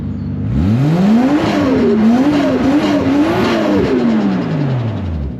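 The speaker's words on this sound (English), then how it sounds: "She's running, she's sounding alright. There is a bit of an exhaust leak." A Toyota JZX100 engine starts and revs loudly nearby, its pitch rising and wavering before settling, with a raspy, rough edge to the exhaust note throughout from an exhaust leak.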